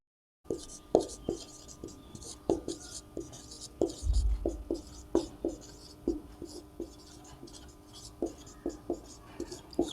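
Marker or chalk writing on a board in a class 12 maths lesson, a run of short, distinct taps and strokes in an irregular rhythm close by, with a brief low thump partway through and no speech.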